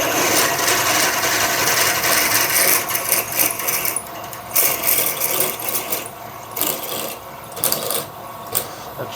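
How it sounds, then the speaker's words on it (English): A drill bores out the original thread in a metal rotary table chuck mount, a continuous grinding whir that stutters into short bursts toward the end. "That's drilling the original thread out."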